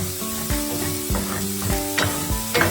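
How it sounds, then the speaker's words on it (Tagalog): Chopped onion and garlic sizzle steadily in hot oil for giniling menudo while a spatula stirs them, scraping the pan in repeated strokes about every half second, close and clear with no talk. "Papainit ulit tayo ng konting mantika at i-add na natin ang ating sibuyas, ang ating bawang."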